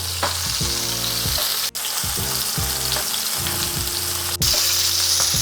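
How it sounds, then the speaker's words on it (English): Walleye and perch fillets fry in very hot oil, a loud, dense, continuous sizzle heard up close, with a couple of brief clicks and a low electronic hum underneath, and no talking. "This oil is quite hot, so they're getting pretty crispy pretty quick"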